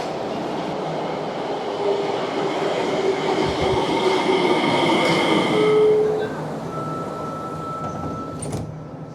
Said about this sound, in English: Now we're taking this train all the way to Karatsu Station.